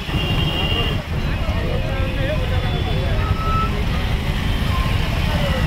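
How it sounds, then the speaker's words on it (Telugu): Road traffic jammed at a busy junction near Theerthala during Maha Shivaratri, heard as a steady, dense rumble of engines with a few high beeps, continuous and fairly close throughout. "ట్రాఫిక్ అయితే బాగుంది"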